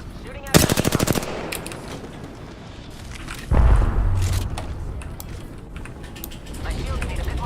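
Video game gunfire during a shield-based shooter fight: a loud rapid burst of automatic fire, then a heavy boom with rumbling follow-up and scattered mechanical noises, while a voice talks over it.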